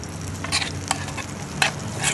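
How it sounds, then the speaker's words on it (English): Grape tomatoes being stirred into a pan of sizzling corn maque choux, with a soft constant fry under several scraping strokes of a spoon, close and clear and without voices. "Nice fresh grape tomatoes to that. I'm going to give that a stir."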